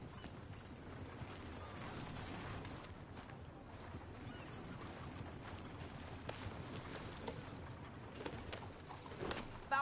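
Horse hooves clopping at a steady riding pace in a video game, fairly faint and continuous with mechanical creaks and some ambient noise around them.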